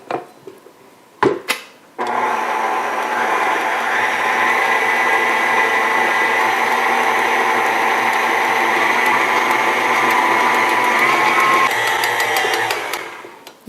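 An electric hand mixer kneads yeast dough for German Easter bread, starting after a couple of brief knocks and then whirring in a loud, steady drone for about eleven seconds before winding down.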